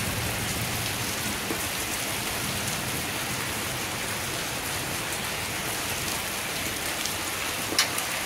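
Steady rain runs off a house roof and splashes below, making a constant, even patter that fills the whole stretch at moderate loudness with no voices.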